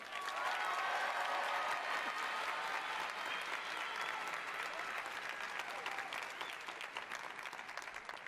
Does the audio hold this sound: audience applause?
yes